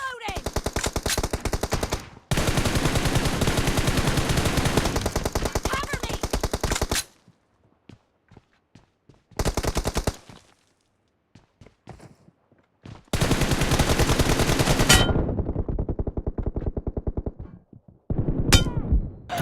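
M4 rifle fire in the Free Fire video game comes in long, dense automatic sprays, loud and close, broken by short pauses and scattered single shots.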